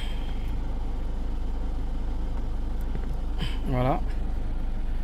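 A Peugeot or Citroën 1.4 or 1.6 HDi diesel idles steadily nearby with an even low rumble, and someone speaks briefly over the engine.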